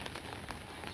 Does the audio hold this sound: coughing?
no